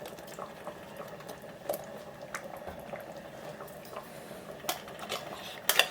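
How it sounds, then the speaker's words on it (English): Drained canned beans tipped into a pot of minestrone with tomatoes, giving soft wet clattering and a few sharp clinks of a metal spoon or can against the pot, fairly quiet and intermittent with no talk. "And we're going to put in the can of drained beans."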